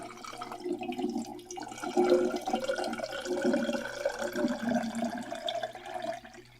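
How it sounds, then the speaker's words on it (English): Canada Dry ginger ale and coconut water pouring into a drink, a steady liquid stream with fizzy gurgling that runs for several seconds at moderate, close level with no talking. "So I am going to put in some delicious Canada Dry ginger ale."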